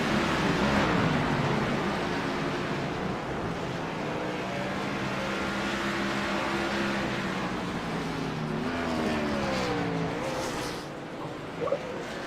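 Race cars roar in an Xfinity Series sim race, a dense, continuous engine drone with rising and falling revving pitches layered throughout, steady and loud with no voices.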